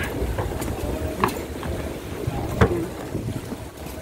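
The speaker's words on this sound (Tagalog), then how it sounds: "Lakas kasi ng hangin dito." Strong wind buffets the microphone in a constant low roar, with occasional knocks and thumps breaking through.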